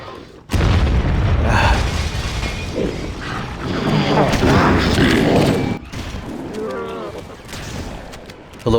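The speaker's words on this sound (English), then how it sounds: "They'll explode if they die." Engineers blowing up in Halo CE, heard as loud, dense booms and gunfire-like bursts that run for several seconds and then ease into quieter rumbling and mechanical noise.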